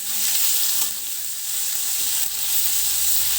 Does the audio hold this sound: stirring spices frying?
yes